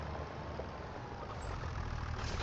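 A tractor engine in Farming Simulator 25 drones steadily at close range, a constant low rumbling hum that holds the same level throughout with no talk over it.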